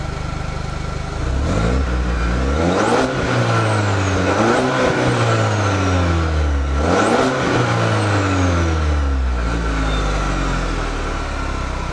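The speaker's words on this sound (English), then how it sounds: "Some people are curious what a turbo four-cylinder in a truck sounds like." A turbocharged four-cylinder engine in a 2019 Chevrolet Silverado LT pickup revs up twice, rising sharply and falling back to a steady idle between pulls, close and loud.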